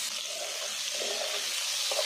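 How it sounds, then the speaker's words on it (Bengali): Fresh Ganges prawns, rubbed with turmeric, frying in hot oil until reddened: a steady, close sizzle and crackle that runs unbroken, with faint stirring and no talking. "সবকটা মাছ এবার আমি ভেজে নেব।"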